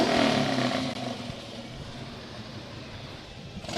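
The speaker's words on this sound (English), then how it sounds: "we may have to wait a minute with this until we get these motorcycles by. They're revving up." Harley-Davidson motorcycles passing in a Veterans Day parade, a broad engine roar that swells loud at first and then settles into a steady rumbling drone, heard alone without voices.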